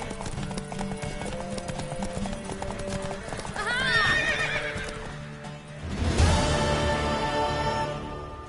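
In The Witcher video game, a horse gallops with a rhythmic clip-clop and lets out a loud, rising neigh partway through, against a backdrop of music and talk.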